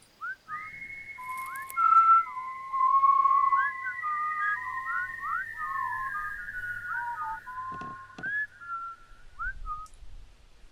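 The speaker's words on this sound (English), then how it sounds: "the woods came alive with whistling and carrying on" Clear, sustained whistling in night woods, a melodic line of sliding, wavering tones that rises and falls over a faint low background rumble.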